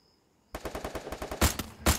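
Automatic gunfire in the mobile shooter Garena Free Fire: a rapid burst of evenly spaced shots starts abruptly after a quiet moment, followed by two louder, heavier blasts near the end.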